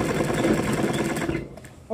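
An electric sewing machine stitches a salwar seam, a fast steady whirring hum running close and fairly loud for most of the moment, then cutting off abruptly near the end.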